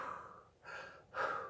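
A person imitates the heavy, muffled breathing of Jason Voorhees inside his hockey mask, with three raspy breaths, in and out, close to the microphone.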